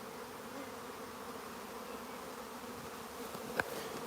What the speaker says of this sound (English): There we go, look, a lot of bees there flying back.